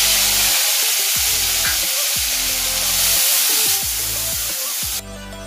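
Onion paste hitting a hot pan for a Bengali potato fish curry, a loud steady sizzle with bursts of stirring and spoon scrapes, close up and continuous until it suddenly drops.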